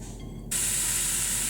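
Onions and garlic hitting hot olive oil in a pan, a sudden loud, steady sizzle that bursts in after a quieter moment and holds on as a bright, continuous hiss.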